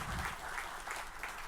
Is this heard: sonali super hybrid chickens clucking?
no